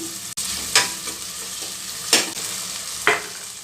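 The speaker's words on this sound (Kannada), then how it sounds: "ಸಾಸಿವೆ ಚೆನ್ನಾಗಿ ಚಟ್ಪಟ ಆದಮೇಲೆ ಈಗ ಶುಂಠಿ ಬೆಳ್ಳುಳ್ಳಿ ಪೇಸ್ಟ್ ಹಾಕ್ತೀನಿ" Ginger garlic paste hits hot oil already crackling with mustard seeds, giving a steady sizzle with three sharp bursts of spatter and stirring scrapes along the way.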